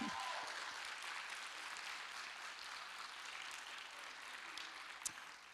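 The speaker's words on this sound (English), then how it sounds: "can we first give her a huge round of applause because she did it." Audience applause at a women's event, steady crowd clapping heard from within the room, gradually thinning, with one sharper clap near the end.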